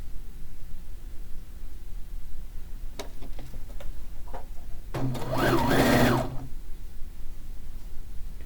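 A sewing machine stitches fish quilt pieces together, first a few quiet clicks and ticks, then a single brisk run of rapid mechanical whirring lasting about a second and a half before stopping, heard up close in a quiet room.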